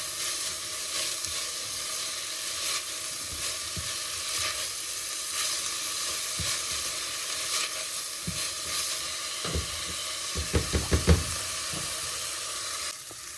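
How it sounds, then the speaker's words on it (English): Garlic and onion sauté in a pan with a constant, close sizzle, broken by a few stirring scrapes and a quick burst of knocks near the end. "Now I've put the garlic in and we've been sauteing it for a bit."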